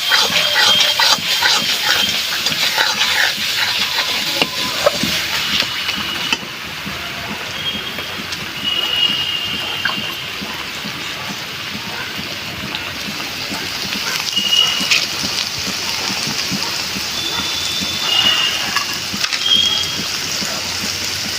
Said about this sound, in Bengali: ভালো করে মশলাটা কষবো।